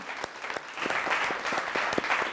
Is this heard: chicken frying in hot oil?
no